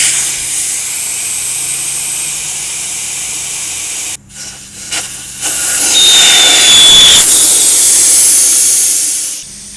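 Air hisses steadily out of a motorcycle tire valve stem as the core is pushed down, a loud, close rush that breaks briefly around the middle, then returns strong and fades near the end.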